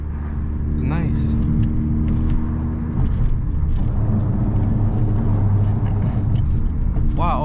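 Honda Civic Si turbo engine drones steadily from inside the cabin while cruising, a low rumble with a few whistly turbo chirps, and people talk over it throughout.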